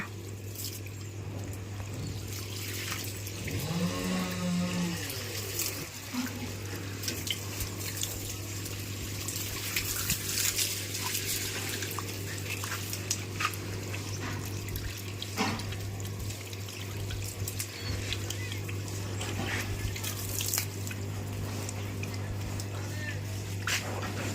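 Water poured steadily onto a newly built village house wall to cure it, a continuous trickling wash at moderate level with a constant low hum and occasional talk.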